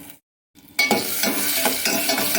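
Grated raw mango stirred into a dish cooking in a pan: after a brief quiet start, a loud, close, steady sizzle with scraping stir strokes runs to the end, no voices.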